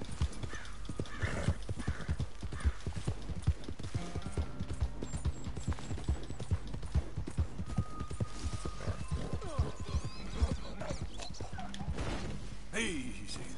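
In Red Dead Redemption 2, a horse gallops with rapid, rhythmic clip-clop hoofbeats across the whole stretch, a whinny breaking in partway, with occasional thuds and voices under the hooves.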